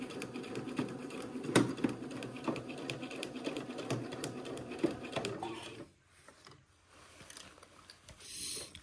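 Sewing machine running a pinned, eased seam on an Eton suit, a quiet steady whir of stitching with faint clicks that stops near the end, followed by soft handling sounds.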